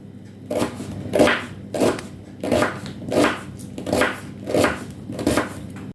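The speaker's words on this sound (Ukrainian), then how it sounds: "беремо цибулю і нарізаємо так, як на зажарку" An onion is chopped with a knife on a board in about eight evenly spaced, firm chops, close and clear with no talking.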